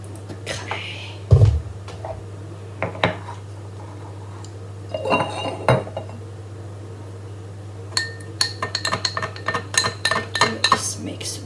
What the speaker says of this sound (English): Let's mix well.